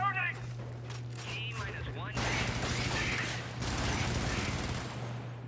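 Automated turret fire in the game Helldivers, rapid bursts of gunfire that swell into a sustained volley, over a steady low hum with a voice heard briefly at the start.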